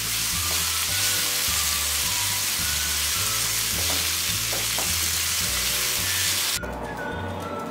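Spring roll topping is stirred in a hot pan with soy sauce and green chili sauce, giving a loud continuous sizzle with rhythmic scraping and stirring strokes that quiets near the end.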